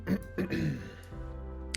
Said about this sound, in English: I've been just coughing and hacking.